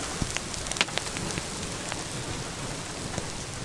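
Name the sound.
hail falling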